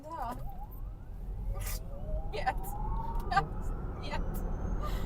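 A 2022 Lucid Air Grand Touring electric car with 819 horsepower pulling away from a standstill, a rising electric whine climbing in pitch under road rumble, with short voice exclamations over it.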